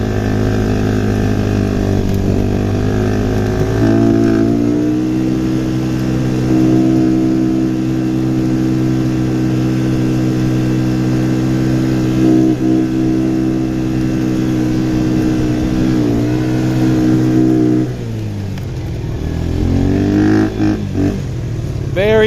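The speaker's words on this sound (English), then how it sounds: "Very responsive engine." A near-mint quad bike's small engine revs hard and steadily throughout, its tone rising and falling with throttle changes before easing back toward the end, loud and close with no talk over it.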